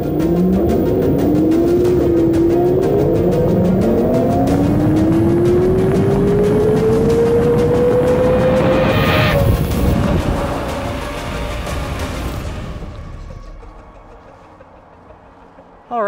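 An InMotion V13 electric unicycle accelerates hard at high speed, its motor whine rising steadily in pitch for about ten seconds under loud wind rush, then easing off and fading as the ride slows.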